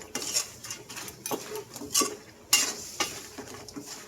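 A utensil stirs crab cooking in coconut milk in a pot, with repeated clinks and scrapes against the metal over a gentle bubbling sizzle, close and without talk.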